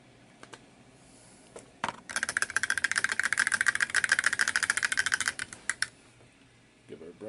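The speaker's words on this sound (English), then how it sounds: "That's all the clicking you hear back there." Brisk, rapid clicking of a paint bottle being shaken with an agitator bead during miniature armor painting, a steady burst of ticks running about three seconds at moderate level, with quiet room noise before and after.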